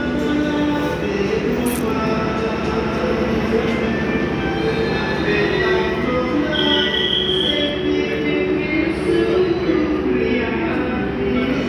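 A Penataran commuter line train rumbles steadily alongside a platform at a station on the Surabaya–Malang–Blitar route, with metallic wheel squeals and faint background voices throughout.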